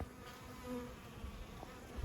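Bees coming in for water buzz close by in a steady drone, several insects hovering and passing with no voices.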